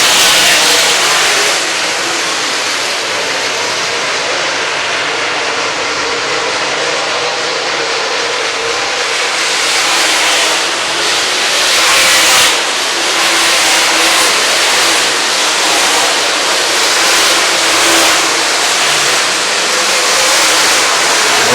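Race cars at the State Fair Speedway in an MLRA late model event roar steadily around the track, a continuous loud engine drone with rising and fading surges as the field passes, no voices over it.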